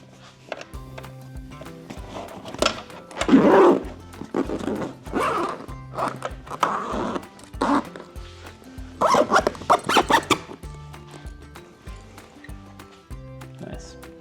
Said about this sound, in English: And I'm gonna walk the zipper back in.